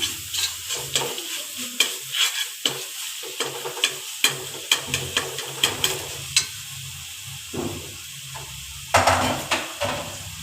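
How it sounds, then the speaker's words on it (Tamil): Chili powder mixture sautéing in a pan, with a steady soft sizzle under repeated, irregular spatula scrapes and clinks against the pan, close and fairly loud, no voices. "மிளகாய்த்தூளை போட்டு நல்லா ஆட் பண்ணி நல்லா கொஞ்சம் ஸ்மெல் போகிற வரைக்கும் வதக்கணும்."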